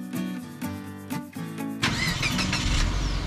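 A car's engine turns over and catches, then runs loud and steady as the group sets off by car toward a harbour.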